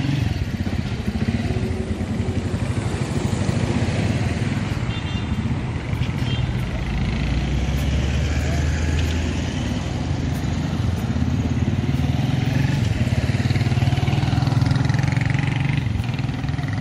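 Motorcycles pass along a busy street in Tanga City, Tanzania, their engines humming and rattling continuously at close to medium range, with general street noise and occasional voices in the background.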